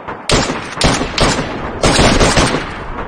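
Rapid automatic gunfire from weapons in the DayZ video game, loud and close, coming in two dense sustained bursts separated by a brief gap, with no talking.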